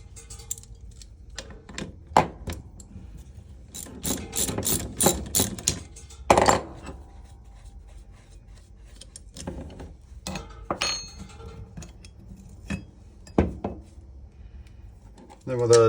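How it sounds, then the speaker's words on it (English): Sharp metallic clicks and clinks of a socket wrench and ratchet working bolts loose on a motorcycle come in scattered short bursts, close and fairly quiet, with a voice speaking between them. "And we'll use a 17 millimeter wrench and a 14 millimeter socket."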